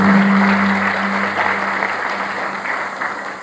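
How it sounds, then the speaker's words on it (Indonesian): A church congregation at an Indonesian worship service gives a sustained round of loud applause, a dense wash of clapping filling the hall, with a low steady hum underneath. "Beri tepuk tangan terbaik."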